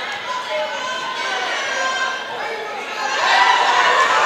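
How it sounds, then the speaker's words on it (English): A high school wrestling crowd in Richmond cheers and roars in a gym, the noise swelling louder toward the end, with a commentator talking over it. "This is probably the loudest the crowd has gotten so far tonight"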